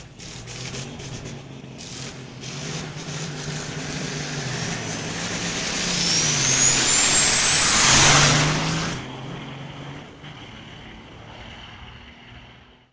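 A Peterbilt diesel truck makes a drag race pass at a raceway, its engine roaring steadily louder as it approaches, peaking with a whining surge, then fading into the distance.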